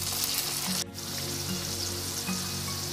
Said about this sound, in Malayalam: ചൂടായിട്ട് അതിലേക്ക് ചിക്കൻ ഇട്ട് ഫ്രൈ ചെയ്യാം